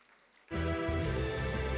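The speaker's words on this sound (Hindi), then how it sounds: "तालियां" Audience applause erupts suddenly at a film festival award ceremony honouring a guest, loud and dense after a quiet start, sustained to the end.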